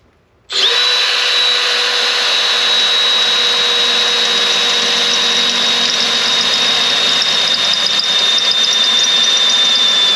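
A power drill whines loudly and steadily as it bores a hole for a mount on a John Deere 60D, starting abruptly and running without pause at a constant high pitch.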